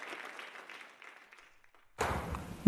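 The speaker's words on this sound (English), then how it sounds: "Everybody's clapping." Applause from an audience at a Canadian citizenship swearing-in ceremony, faint and scattered at first, then a louder, denser burst of clapping near the end.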